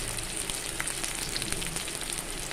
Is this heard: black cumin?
yes